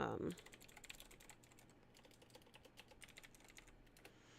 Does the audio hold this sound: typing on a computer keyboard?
yes